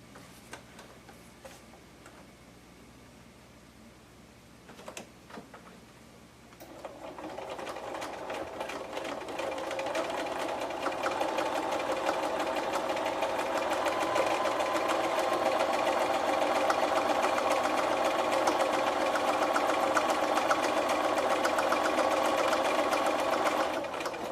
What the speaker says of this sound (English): I'm going to stitch from the top to the bottom